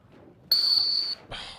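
A single sharp, high-pitched dog training whistle blast rings out for about half a second, close and loud, followed by a brief rustle.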